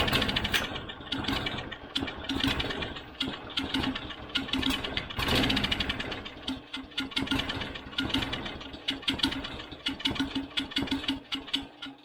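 An old Tecumseh go-kart engine with a fuel delivery problem sputters and struggles to keep running, its loud uneven chugging and popping surging and dropping irregularly, close up with no talking.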